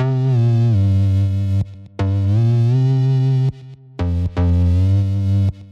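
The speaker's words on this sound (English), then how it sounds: "the compressor will duck the bass whenever it's triggered by the sidechain." A sustained, distorted bass tone ducked by a sidechain compressor swells and cuts out repeatedly, dropping in level in short rhythmic dips, with no other instruments or talk.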